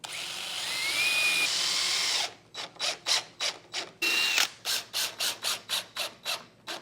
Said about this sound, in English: I'm gonna pre-drill everything.